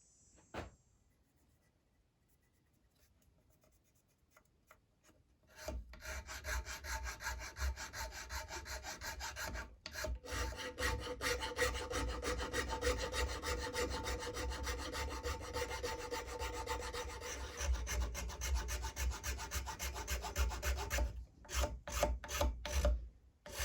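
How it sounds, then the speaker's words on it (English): A file rasping flats onto a traditional powder horn: quiet scattered scraping first, then a long, steady run of close, loud rhythmic filing strokes, a brief pause partway through, and a few final strokes, with no talking. "So now with 4 flats filed, I'll go back and file the ones in between."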